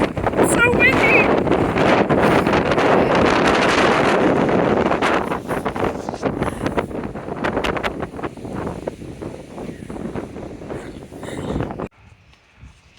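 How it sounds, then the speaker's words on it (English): Strong wind buffets the microphone on a forested stretch of the Appalachian Trail, a loud, continuous roar with gusty rumble that eases in the second half before cutting off near the end. "Ah, it's so windy!"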